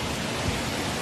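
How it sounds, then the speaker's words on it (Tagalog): A typhoon's strong wind and light rain roar outside, filling the short moment with a dense, loud, steady wash of noise and no talk. "Hindi malakas yung ulan pero yung hangin sobrang lakas."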